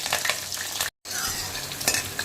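Garlic cloves and green chillies frying in hot oil for a Tamil tempering, with a steady dense crackle and sizzle interrupted by a brief silent gap before the frying resumes, no talking.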